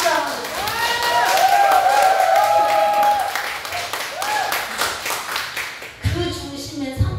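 An audience at a talk on microcurrent rehabilitation claps in a scattered patter beneath a voice that keeps speaking over it, followed by a shift to a fuller, rougher burst of sound near the end.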